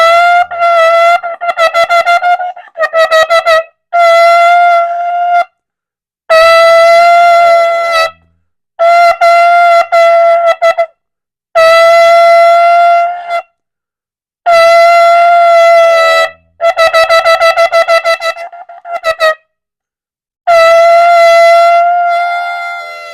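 Shofar blasts in a repeated series of short and long calls with brief silences between them, bright and brassy with a wavering tone, loud and close, no talking.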